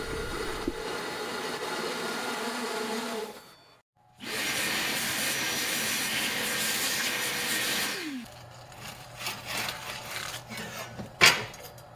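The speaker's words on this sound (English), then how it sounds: "I'm countersinking for the screws here" Power drill countersinking screw holes in a cedar mantle, a loud steady whirring grind running for several seconds, breaking off briefly, then resuming before dropping to quieter scraping and clatter.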